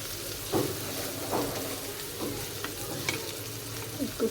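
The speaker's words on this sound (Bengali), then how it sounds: "এখন মশলাটা আমি কষিয়ে নেব।" Onions and spices frying in a pan while cooking puishak with jackfruit seeds, a steady sizzle with soft scraping stirs recurring every second or so, close and moderate in level.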